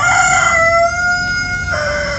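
A rooster crows once in a single sustained, wavering call lasting about two seconds, close and fairly loud against a quiet background.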